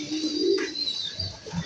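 Pigeons give a few soft, low coos, close by and fairly quiet, with a short burst of rustling partway through.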